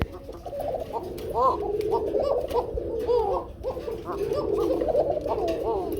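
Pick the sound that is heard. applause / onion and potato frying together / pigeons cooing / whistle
pigeons cooing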